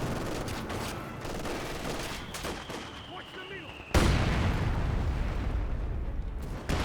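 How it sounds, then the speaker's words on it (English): A rifle squad and captain fire in a Company of Heroes 2 battle, with dense overlapping rifle and machine-gun bursts and a heavy blast near the four-second mark. The loud, continuous gunfire runs under faint talk. "Got the rifle squad and captain firing away."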